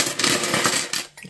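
Spare change coins tipped out of a box, a loud, dense jingling clatter of metal coins spilling and settling for about a second, close by.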